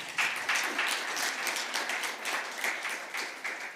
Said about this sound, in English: if I could get another round of applause for these amazing panelists